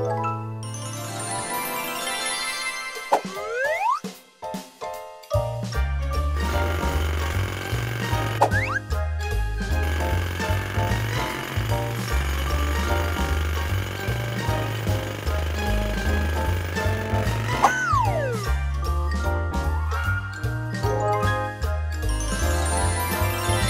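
Cartoon jackhammer pounding rapidly and continuously in a steady mechanical rhythm, preceded by playful boing-like sliding sound effects, loud and sustained without talk.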